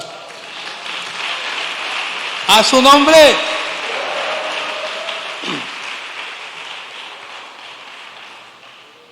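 A congregation at an evangelistic church service applauds steadily in a dense, rain-like patter that carries through the whole stretch, with a man's brief spoken phrase rising over it partway through.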